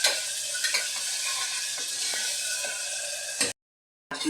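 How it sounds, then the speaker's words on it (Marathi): Ginger garlic paste frying with onion in a hot pan, a steady loud sizzle broken by several scraping stirs, cutting out abruptly near the end before resuming briefly. "पेस्ट आहे ना चांगली भुनल्या जाते"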